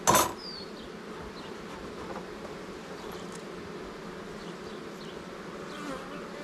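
Honey bees swarming around a beehive give off a steady, close, agitated buzz that holds at one level throughout, opening with a brief sharp knock.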